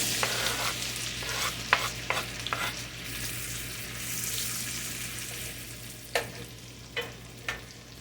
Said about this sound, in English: put the onions into the butter, and we want them to get translucent